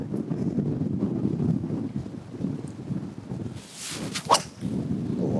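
Wind gusting across an outdoor golf course, a steady rumbling buffet on the microphone with a louder whooshing gust near the end, while golfers talk at a distance.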